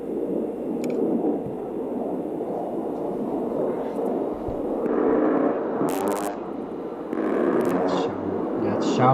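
A jet aircraft roars continuously with a broad, rumbling drone, swelling louder partway through, with a few sharp clicks and bursts over it.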